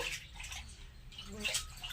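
Faint splashing and swishing of water as pieces of pala sora (milk shark) are washed by hand to rinse away sand, with soft sloshes close by and nothing else over them.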